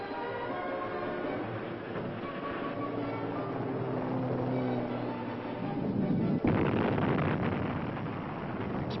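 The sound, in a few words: rock blasting explosions in canyon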